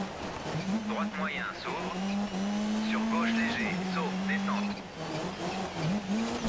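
A rally car engine in Dirt Rally 3 holds a steady, buzzing drone through the whole stretch, dipping and rising slightly with throttle, while voices talk over it.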